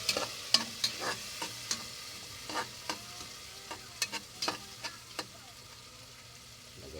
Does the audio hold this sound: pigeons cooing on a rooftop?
no